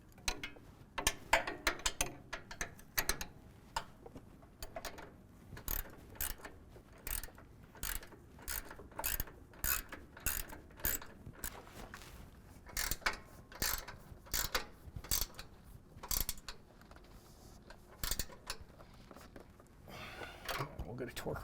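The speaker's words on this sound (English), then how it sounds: "we're going to tighten down the factory hardware to 120 foot-pounds using a 21 millimeter on the outside and 18 millimeter on the inside" Close ratcheting clicks come from a wrench tightening the upper control arm bolts on a 2024 Ford F-150, with rapid bursts of pawl clicks repeated in an irregular rhythm across the clip.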